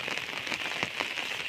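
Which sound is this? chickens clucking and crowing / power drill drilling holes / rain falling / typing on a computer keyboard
rain falling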